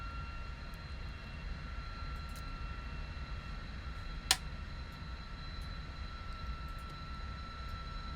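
Lockheed T-33 jet engine lighting up in Microsoft Flight Simulator, a steady low turbine rumble with high whining tones, plus one sharp click midway.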